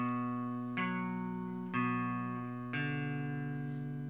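Three strummed guitar chords ring out one after another, each struck cleanly and left to sustain, with a steady, moderate pace and no talking.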